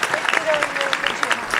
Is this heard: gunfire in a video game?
no